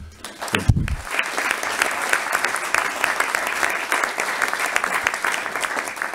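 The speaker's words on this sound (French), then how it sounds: "Vous pouvez l'applaudir." Applause fills a municipal council meeting in Wattrelos, steady clapping from the room that begins after a brief opening thump and holds at an even level throughout.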